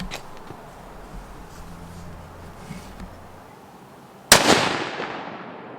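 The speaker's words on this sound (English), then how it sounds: "Now we're going to shoot some olives." A single loud gunshot rings out at an olive set up as a target on an outdoor shooting range, its sharp crack trailing into a long decaying echo after several seconds of quiet low background noise.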